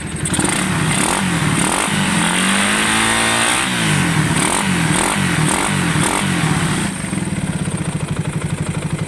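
A motorcycle engine revs up and down repeatedly, close and loud, its pitch rising and falling before settling into a rough idle.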